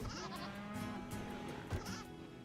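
A goat in the video game RimWorld bleats in short wavering calls, fairly close, layered over a steady droning game soundscape with a low thump partway through.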